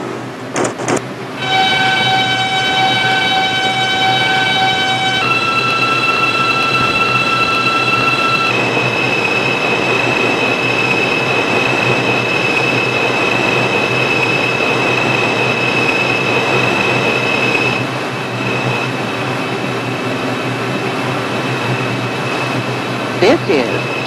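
An R142 subway train on the 6 local runs steadily toward 125th Street, a loud sustained rumble with high whining motor tones that step up in pitch as it accelerates, then fade and settle near the end.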